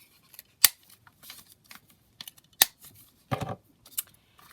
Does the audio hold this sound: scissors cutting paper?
yes